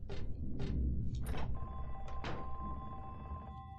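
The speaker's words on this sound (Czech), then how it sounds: "Telefon?" Telephone ringing in the Silent Hill 3 video game: a few sharp bell bursts in irregular succession, each followed by a lingering ringing tone, fairly quiet and alone with no speech.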